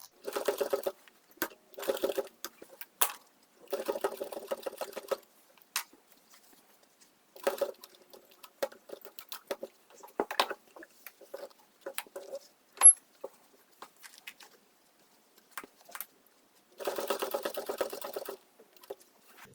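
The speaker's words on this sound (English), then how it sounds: "start sewing there" A sewing machine stitches along the edge of blue plaid tartan fabric in short, rapid bursts of mechanical chatter separated by quiet pauses, with a few small clicks between runs.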